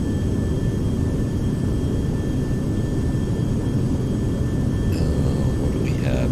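Twin-jet engines of a Carenado Premier 1A business jet spool up in the Prepar3d flight simulator, a steady loud broadband roar with faint whining tones, holding continuous throughout with brief clicks near the end.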